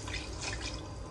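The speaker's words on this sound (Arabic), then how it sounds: "غادي نزيد ليها شويه الماء يكون سخون" Hot water poured onto potatoes in a tagine, a brief, soft, steady splashing trickle heard up close and quietly.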